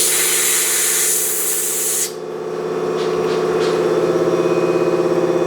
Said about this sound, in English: Well, it's not sprayed out. We'll get the WD-40 out of it.